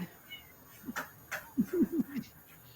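A house cat gives a short series of four or five quick, close meows in a row, with faint background room noise and a brief earlier chirp.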